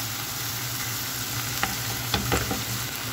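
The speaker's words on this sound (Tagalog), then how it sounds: "i-mix natin siya guys para makombine na yung ingredients sa ating meat" Ground meat with pepper and tomato paste stirred in a pan, a quiet steady sizzle with a few sharp scraping clicks of the utensil near the end.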